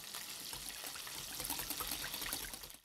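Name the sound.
pouring water into an egg for bread dough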